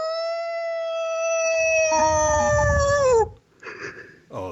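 A person imitates a hound dog howl, a long sustained wailing tone that slowly slides downward before breaking off, followed by a short burst of voices.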